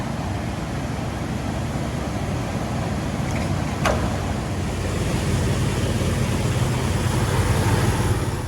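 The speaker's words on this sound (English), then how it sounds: "Now we are gonna warm the engine." Jeep Wrangler LJ engine idling as it warms up: a steady, even, low rumbling hum that holds at a constant level throughout, heard alone with no talking.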